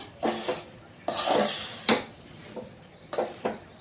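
Spoon scraping and clanking in a pot while wood apple pulihora rice is mixed, a few separate close strokes with brief pauses between them.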